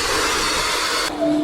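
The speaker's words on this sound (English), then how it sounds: "So let's just turn it back on again. A little hairdryer." A small hairdryer blows steadily on a Kawasaki Z650B motorcycle tank badge, a loud, close, even rushing hiss that cuts off abruptly near the end, leaving a faint hum.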